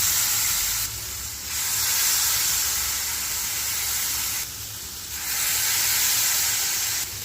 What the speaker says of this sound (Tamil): கீ போட்டுக்கலாம். என்னென்னா மாவு ஊற்றிடலாம்.